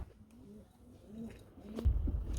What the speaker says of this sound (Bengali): আরেক জোড়া রেসার কবুতর চলে আসছে